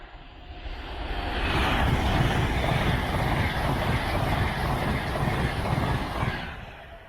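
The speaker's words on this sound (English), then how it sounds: "Bonus train footage." A train passing on the main line near a caravan park by Cromwell, Newark, swelling into a broad, steady roar that holds for several seconds before easing off, heard alone without talk.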